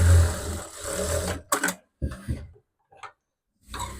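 Sewing machine stitching a small girl's frock, running in short bursts with brief pauses and faint ticking between, close and moderately loud.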